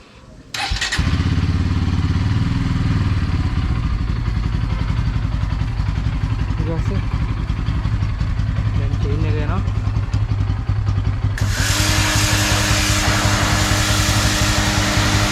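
A Bajaj Pulsar N160 motorcycle engine idles close by, a steady throbbing rumble that stays even while the bike is put in gear, then a louder broadband rush joins in near the end.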